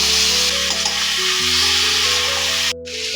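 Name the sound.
vegetables frying in pan with turmeric and cumin powder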